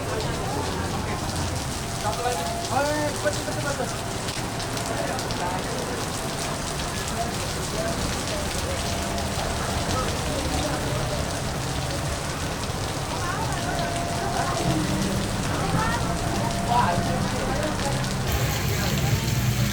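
Steady rain pours onto a street in Malioboro, Yogyakarta, a dense continuous hiss with faint murmuring voices and traffic beneath, holding even throughout.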